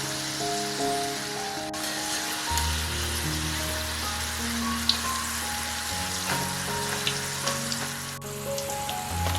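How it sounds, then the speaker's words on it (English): Potato pieces frying in hot oil for a Bengali pumpkin flower kofta curry give a steady fizzing sizzle with scattered pops and crackles, heard beneath sustained background music and no talking. "now I am going to put the potato into the hot oil to fry until it golden"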